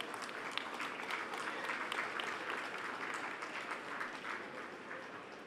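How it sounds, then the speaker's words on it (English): Steady, moderate applause from an audience at a business school convocation for graduating students, many hands clapping in a continuous rustling wash. "A round of applause, please."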